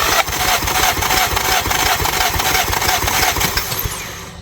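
An Audi A3 TFSI with a misfire fault cranks over on the starter during a compression test, a loud, steady chugging rhythm of rapid pulses running for several seconds before easing off.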